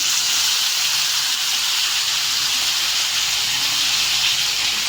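Vegetables tipped into hot oil seasoned with Kashmiri chilli for a mixed-veg Punjabi sabzi, giving a loud, steady hiss and sizzle that runs unbroken from start to finish with no voices.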